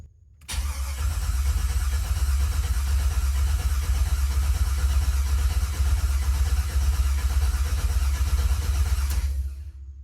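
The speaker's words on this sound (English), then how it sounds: "All right, let's give her a crank." A 1987 El Camino with an LS engine swap and Terminator X control cranks briefly and fires, then settles into a loud, steady idle close by, with a strong low rumble lasting until it cuts off near the end.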